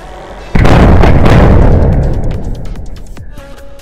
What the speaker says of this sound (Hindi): ये इस तरह से बोला, मतलब सारे अलग अलग बोले हैं ये पटाखे जितने भी थे, एक साथ नहीं धड़ाम से बोले